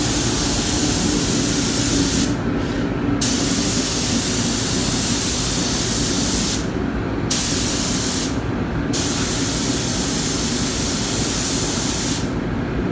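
A spray gun lays a wet coat of lacquer onto a BMW M3 in a paint booth, giving a loud, steady, close hiss that runs almost unbroken, with a few brief dips in the high end.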